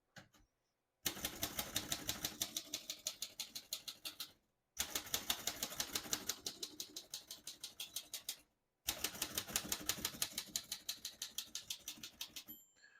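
A 1936 Royal Model O portable manual typewriter clacks in three bursts of rapid, evenly spaced keystrokes, close and crisp, separated by brief pauses, with no voices.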